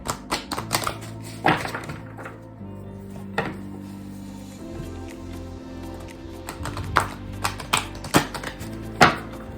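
Karma tarot cards are handled and shuffled close up, a run of crisp slaps, taps and riffling clicks in uneven bursts, with brief pauses between handfuls.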